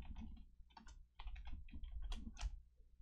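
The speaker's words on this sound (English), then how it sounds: "I gotta look up this release date. Sorry, I type mad slow." Keyboard typing on a computer, a steady run of close, slightly uneven keystrokes with brief pauses, alone without talk.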